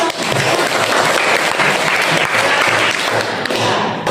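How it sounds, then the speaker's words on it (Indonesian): Students in a classroom clapping their hands together, a continuous burst of fairly loud group clapping that holds evenly throughout. "Tepuk tangan dong"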